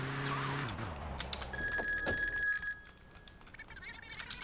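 Yakuza payphone ringing in the top-down game GTA2, with repeated electronic telephone bell tones over a car engine hum and game effects, fairly loud and close.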